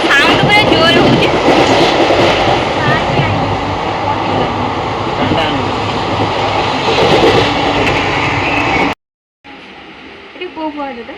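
A train rumbles loudly along its rails, heard from inside the carriage as a dense, continuous roar with rattling, which cuts out abruptly near the end before fainter noise and a voice return.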